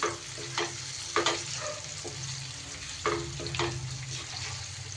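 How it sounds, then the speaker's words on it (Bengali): Beaten yogurt stirring and cooking in a pan over low heat for a Rajasthani paneer dish, giving a soft steady sizzle with several scraping stirs of a spoon spaced through it. "দইটা দিয়ে এইভাবে একটু নাড়াচাড়া করে মিশিয়ে নিয়ে কষিয়ে নিতে হবে।"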